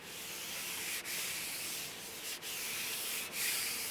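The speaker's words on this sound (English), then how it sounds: "if you listen carefully, you'll be able to hear all the crud on the paint" A cloth or hand rubs repeatedly across gritty, contaminated car paint, producing a continuous rough scratching sound with a few brief pauses between strokes.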